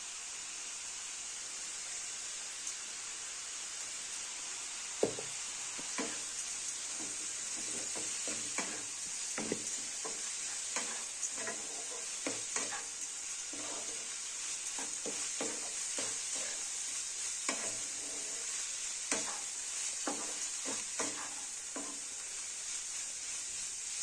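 Steamed cabbage roasting in a pan with crushed peanuts, a continuous dry hiss broken by frequent spoon scrapes and clinks as it is stirred throughout, close and steady with no talking.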